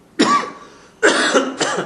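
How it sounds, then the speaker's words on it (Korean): A person with a chest cold coughs in two close-miked bursts, a single harsh cough, a pause, then a doubled cough in quick succession. "기침감기 걸린 지금 며칠 돼가고 계속 기침이 나오니까, 간간히 나오니까"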